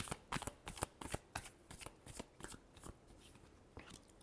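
Tarot cards shuffled close up in a quick, crisp riffling run of rapid papery flutters and snaps, alone and fairly faint.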